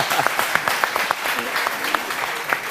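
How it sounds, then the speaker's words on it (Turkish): Audience clapping at a live village broadcast event in Çorum, a steady burst of applause close to the microphone with faint voices underneath. "Alkışlarımı da şöyle Habibe Hanım'a bir alalım."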